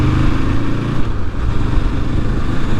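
A 2023 Honda CL500 Scrambler motorcycle being ridden on the road, a loud, steady engine drone mixed with wind rush, continuous and close with no talking.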